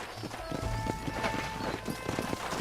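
Horse hooves clip-clop on dirt in the Western video game Red Dead Redemption, a quick uneven patter of steps near and fairly loud over a steady ambient bed, with no voices.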